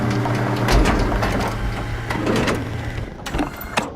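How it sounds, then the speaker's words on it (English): A pilot seat activating in the video game SOMA gives a loud, close mechanical whirring hum with grinding, clunking texture. It runs steadily for about three seconds, then cuts off into a few fainter knocks. "Okay, I'll activate the seat."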